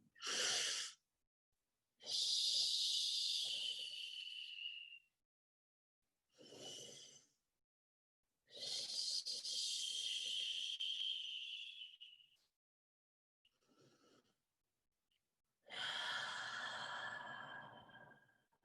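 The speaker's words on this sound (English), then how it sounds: "let's just take a couple of inhales and exhales in our breathing" Several slow, deep breaths are taken in and pushed out during a guided breathing exercise, each one a long airy rush lasting a few seconds, close to the microphone and separated by quiet pauses.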